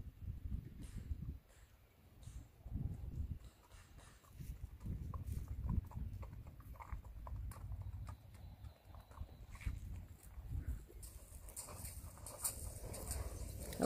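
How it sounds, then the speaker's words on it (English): Horses move around in the background at feeding time, faint clip-clopping hooves and scattered thumps with soft rustling, distant and quiet, with a brief hiss near the end. "Noises in the background with the horses."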